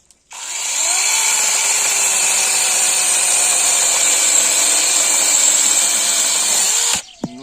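ProCraft PKA 44 cordless chainsaw running on a 20-volt 4-amp battery with a six-inch bar, cutting acacia wood: a loud, steady high-pitched motor whine that holds for about seven seconds alone, then stops abruptly.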